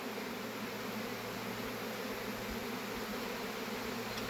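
A freshly departed honeybee swarm fills the air with a constant buzzing drone, many insects circling nearby at an even, sustained loudness.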